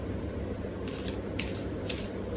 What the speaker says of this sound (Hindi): Let's shuffle again.